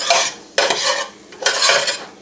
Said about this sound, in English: while I'm stirring this constantly